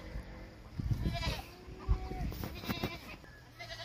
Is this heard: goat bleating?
yes